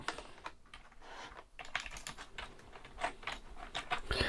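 Close, quiet typing on a Trust AVONN GXT 830 rainbow gaming keyboard, a spongy non-mechanical board with rubbery keys, giving soft irregular key taps in quick bursts with brief pauses.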